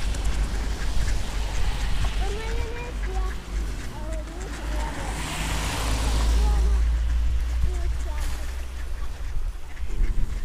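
Ducks being fed outdoors quack and squabble over food, their calls scattered throughout over a steady low traffic rumble, with voices talking nearby.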